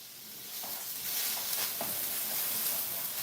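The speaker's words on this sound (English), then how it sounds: "we can add in our spring onions just to get those aromats going" Spring onions sizzle steadily in a hot pan, a continuous close hiss with faint stirring scrapes and small crackles throughout.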